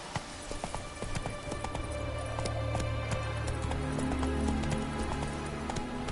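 Roach the horse gallops in The Witcher 3, a rapid, steady clip-clop of hooves close by over a low sustained drone that swells midway.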